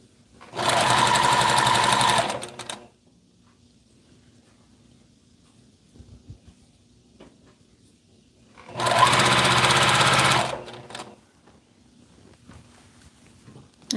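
Sewing machine stitching folded fabric in two loud, steady bursts of a few seconds each, close up, separated by a quiet room with only faint background noise.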